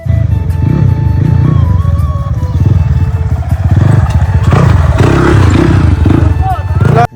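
Dirt bike engine running steadily on a muddy trail, a loud continuous motorcycle drone with revs rising and falling throughout, while people talk over it.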